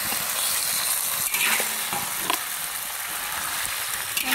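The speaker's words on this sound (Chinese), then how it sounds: "炒出红油后，倒入焯好水的泥鳅。" Blanched loaches tipped into a wok of chili bean paste red oil and stir-fried: a loud, continuous sizzle and crackle of hot oil, broken by a few clinks and scrapes of the spatula.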